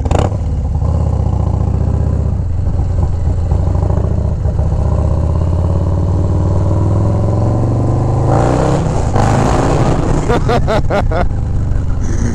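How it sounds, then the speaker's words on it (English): A Harley Low Rider S motorcycle with a 122 Screaming Eagle stage 3 engine and aftermarket pipes rumbles loudly up close, building in a rising rev with clattering mechanical bursts near the end. "Those pipes sound really good, and they give you a good amount of horsepower as well."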